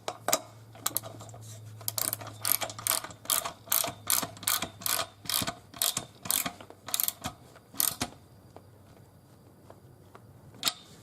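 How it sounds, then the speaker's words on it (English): A ratchet wrench tightens nuts on a steel piano bench for a Casio CDP-230R digital piano. Rapid ratcheting bursts repeat in a steady rhythm, about a dozen strokes, then thin out into a few last clicks, close up with no voices. "Get your wrench."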